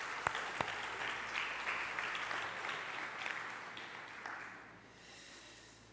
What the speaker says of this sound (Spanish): Vamos a darle aunque sea un aplauso a los padres hoy.